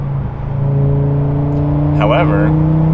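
Audi RS3 with a modified exhaust holding a steady, loud droning engine note with a slight rise near the end, heard from close by under a voice.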